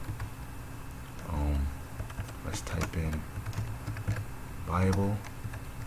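Quick keystrokes on a computer keyboard type out a web search in a burst of ticking taps, interleaved with someone speaking close by.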